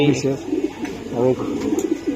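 Racing pigeons from a BRPFC club loft coo in repeated low, bubbling calls, near and fairly loud, while someone speaks over them at intervals.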